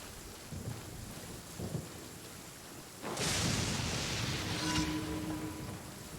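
Thunder in Genshin Impact rolls in around the midpoint as a loud, broad crack and rumble, preceded by a softer steady rain-like wash, then decays over a couple of seconds.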